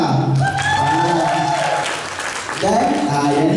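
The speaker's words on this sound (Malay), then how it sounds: "Beri tepukan" Applause from an audience at a company talk in Johor Bahru, Malaysia, steady clapping that dips briefly then resumes, with voices mixed in.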